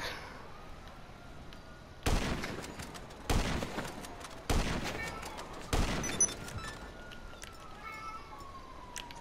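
Gunfire in Grand Theft Auto V: four loud, sharp shots about a second apart, each cracking out and fading over a steady low background din.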